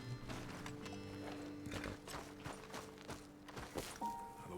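Horses in Red Dead Redemption 2 clip-clop along with thudding hooves and soft movement, layered under a game's ambient music and background sound at moderate loudness.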